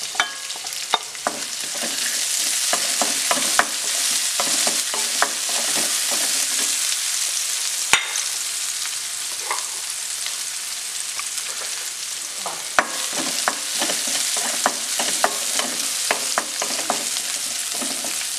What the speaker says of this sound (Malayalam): പച്ചമുളക് ഒന്ന് ചെറുതായിട്ടൊന്ന് വഴന്ന് വന്നിട്ടുണ്ട്